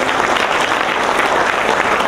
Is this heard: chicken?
no